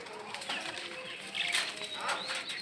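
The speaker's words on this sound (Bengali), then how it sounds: "এই যে কবুতর, 3টা কবুতর ভিতরে" Three pigeons kept inside a coop coo softly and flutter their wings, faint and close in a quiet space.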